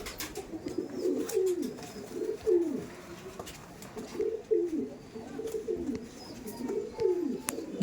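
Red-tailed pigeons in a breeding loft coo in repeated rolling phrases about once a second, close by, against faint rustling and background chirps.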